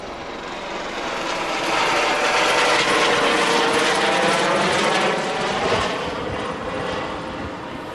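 An aircraft comes in to land, a loud, steady engine roar that swells and holds near, then eases slightly as it passes, with no talk over it.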